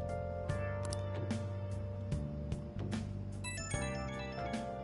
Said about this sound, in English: this phone is going wild